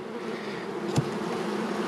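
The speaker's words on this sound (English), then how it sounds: "Bees with attendants on a 3-hole style cage." Honey bees, a queen with attendants inside a three-hole queen shipping cage, give a close, steady buzzing hum, broken once by a brief tap.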